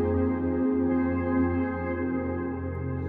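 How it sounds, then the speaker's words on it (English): Spire software synthesizer holding a sustained, harmonically rich tone with a steady, even level and slight timbral movement throughout, playing alone without any talk. "Here I have a third-party synth called Spire, which is generating the sound you hear in the background."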